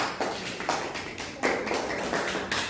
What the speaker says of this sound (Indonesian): Beri aplaus untuk kita lagi.